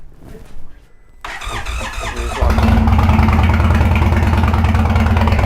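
An Indian Sport Chief motorcycle engine cranks briefly, then catches and roars into a loud, steady idle close by, rumbling on without pause.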